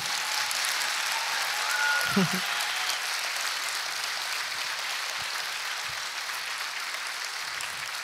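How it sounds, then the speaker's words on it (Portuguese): Audience applause at a YMCA talk, a continuous broad wash of clapping from a crowd, with a brief whistle and a few thumps rising out of it early on. "eu queria vos pedir o aplauso mais forte da noite para todos nós"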